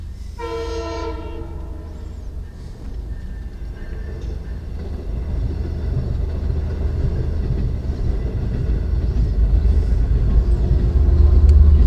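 A Long Island Rail Road train from Port Jefferson to Jamaica sounds a loud horn blast at the Park Avenue crossing, then its rumble and wheel noise grow steadily louder as it passes close by.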